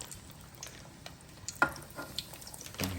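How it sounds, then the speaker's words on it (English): Potato wedges dropped into hot grease in a Power XL fryer crackle and hiss softly, with a few sharp clinks and splashes and a louder burst near the end. "And then just start frying."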